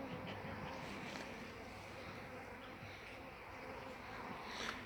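Dense, continuous buzzing of many honeybees close by at a hive, a steady droning hum with faint wind noise underneath.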